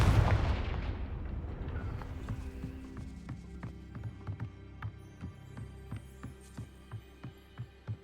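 A Confringo fire spell cast in the Hogwarts Legacy video game, starting with a loud booming burst that fades into a steady run of rhythmic crackling impacts, with no voices.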